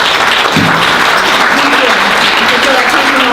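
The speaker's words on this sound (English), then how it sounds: "let's give her a big round of applause" A crowd claps steadily and loudly throughout, dense applause filling the whole stretch.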